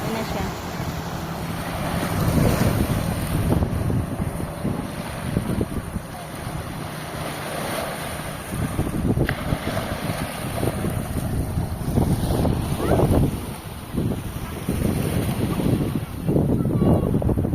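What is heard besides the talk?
strong sea waves at beach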